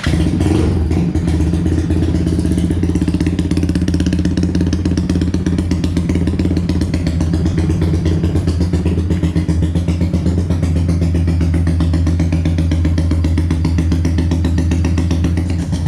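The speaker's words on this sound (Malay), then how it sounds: "Aku start sikit motor aku ni." A Yamaha Y15 motorcycle engine fires up and settles into a loud, steady, close idle with a rapid clattering pulse that holds unchanged to the end.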